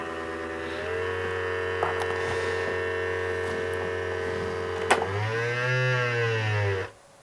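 A Hasbro Proton Pack speaker plays a cattle moo sound effect, a long electronic droning moo with a steady hum that rises in pitch near the end before cutting off abruptly, with no talking.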